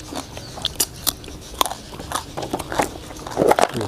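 Crispy pork rind crackles and crunches with each close bite, eaten alongside Thai rice noodles in spicy fish curry, a quick series of sharp, brittle snaps and chewing sounds.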